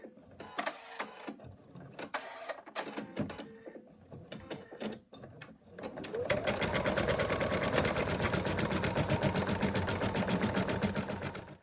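An embroidery machine stitching the body outline of a teddy bear design, a dense, fast, even needle chatter that starts after scattered handling clicks and runs loud and continuous to the end.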